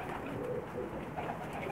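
Pakistani Sharmeela-breed pigeons cooing in a steady, close, low murmur that runs unbroken through the whole moment.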